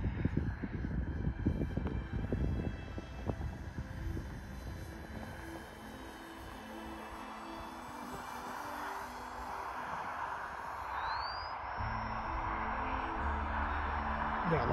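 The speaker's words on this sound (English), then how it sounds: "Yeah, lots of power in that plane." An E-flite J3 Cub RC model airplane flies at a club field on a windy morning, its electric motor a steady buzzing drone throughout, with a rising whine near the end and wind rumble underneath.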